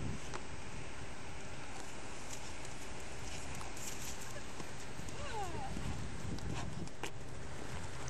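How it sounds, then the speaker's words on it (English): A young horse cantering and crow-hopping in a training pad, its hoofbeats thudding in an uneven, bouncing rhythm at moderate distance under steady wind noise, with a brief whinny-like squeal. "easygoing horse is now crow-hopping and running"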